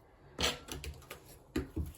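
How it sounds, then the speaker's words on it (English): A deck of oracle cards is shuffled by hand, giving a few quick, close papery riffles and soft slaps in uneven bursts, fairly quiet. "there's just going to be a bit of shuffling."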